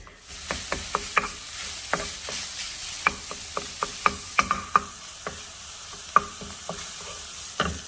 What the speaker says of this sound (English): here in my preheating pan, pot or pan, you can use a pot or pan, I'm gonna start cooking out the Italian sausage.